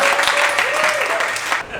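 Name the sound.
audience applause at a stand-up comedy gig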